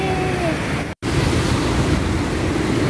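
Sea waves wash at Ban Krut beach in Thailand with a loud, continuous rushing surf and heavy wind buffeting the microphone, broken by a brief dropout near the start.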